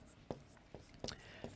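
A teacher writes on a board during a classroom lesson, making four short, quiet scratchy strokes spaced a fraction of a second apart, with a faint hint of a voice nearby.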